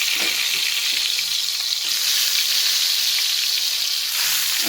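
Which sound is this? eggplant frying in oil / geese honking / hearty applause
eggplant frying in oil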